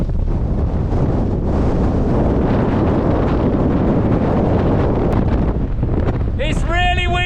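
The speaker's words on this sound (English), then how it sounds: "It's really windy on this point here." Strong, continuous wind roars and buffets the microphone on an exposed snowy point during a winter storm while wild camping, loud and unbroken, with a brief higher tone near the end.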